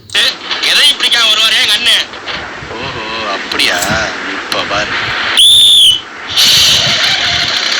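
A bus conductor's whistle on a government bus gives one sharp, loud high-pitched blast lasting about half a second, with chatter and background noise around it.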